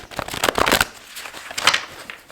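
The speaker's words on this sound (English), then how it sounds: "Let me shuffle this one more time." A deck of tarot cards is shuffled by hand in two quick riffling bursts of crisp paper flutter, close and clear, with no voices.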